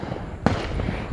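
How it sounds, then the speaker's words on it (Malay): Firecrackers and fireworks on the night before Eid al-Fitr: a single sharp, close bang bursts out about midway over a steady haze of distant crackling and rumbling. "Jadi memanglah malam ni memang banyak bunyi mercon."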